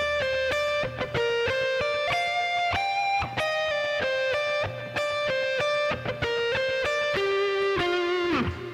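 Electric guitar with overdrive, dotted-eighth delay, reverb and compression plays the intro of a worship song as a steady run of bright, sustained melodic notes, clean and alone with no talking.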